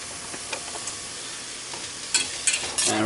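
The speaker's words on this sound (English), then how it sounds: "lightly saute our veg." Celery and other vegetables sauté in a pan with a constant soft sizzle, broken by a few sharper scrapes and stirring clatters near the end.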